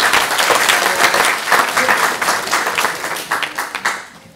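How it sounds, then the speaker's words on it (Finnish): A youth church service audience bursts into applause, dense and loud clapping from many people that continues steadily, then thins and fades toward the end. "Eiköhän se ole jo aplodien paikka."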